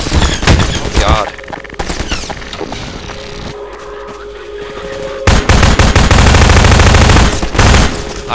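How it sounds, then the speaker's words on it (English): Gunfire in the shooter Half-Life 2 arrives as loud bursts of rapid automatic fire with single shots in between, then a long sustained fusillade near the end, with a voice briefly heard amid the shooting. "I'm getting shot at"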